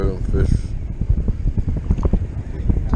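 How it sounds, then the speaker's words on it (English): Strong wind buffets the microphone on a rough, windy day of croaker fishing on the Chesapeake Bay near the bridge-tunnel, roaring loud and gusty throughout while someone talks over it. "So rough and windy out today"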